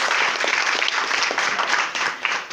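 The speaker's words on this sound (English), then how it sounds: "Let's do another round of applause." Steady applause from a graduation crowd, dense and continuous hand clapping throughout.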